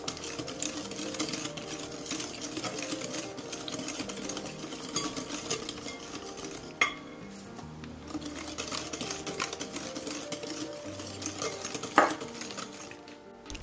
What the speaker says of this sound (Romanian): Continui să amestec cu telul până când tot uleiul este încorporat.